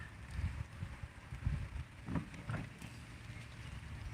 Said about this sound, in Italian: qua piove, vento